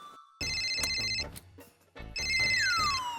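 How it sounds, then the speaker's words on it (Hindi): A mobile phone ringtone plays in a domestic scene, loud electronic melodic bursts in two rounds separated by a short pause, with music-like tones and a rising sweep near the end. "फोन की घंटी बज रही है।"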